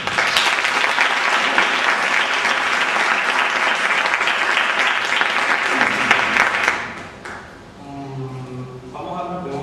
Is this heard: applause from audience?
yes